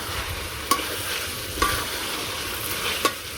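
Curry gravy cooks down in oil in a wok over a village stove, a soft continuous sizzle broken by three sharp clinks of a spoon against the pan at even intervals.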